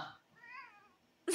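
A cat gives a single short, faint meow with a rising-then-falling tone, alone in a quiet room, cut off by a brief louder noise at the end.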